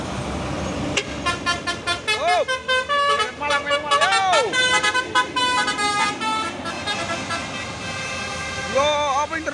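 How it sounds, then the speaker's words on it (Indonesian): An ALS inter-Sumatra bus on a busy road sounds a loud melodic horn in repeated tooting bursts, with traffic rumbling beneath and a voice talking over it. "Dan di atas ada juga bus ALS antar lintas Sumatera."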